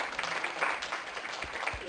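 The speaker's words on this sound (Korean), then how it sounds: "저희 이정구 총장님께 다시 한번 박수 부탁드리겠습니다" Applause from a conference audience at a 2014 university business conference opening ceremony, honouring the university president; dense, steady clapping held at a moderate distance for the full two seconds, fairly quiet overall.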